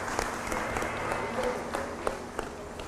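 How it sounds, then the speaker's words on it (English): An audience at a fair applauds steadily, a dense wash of many hands clapping with a few sharper claps standing out. "let's go ahead and give them another round of applause"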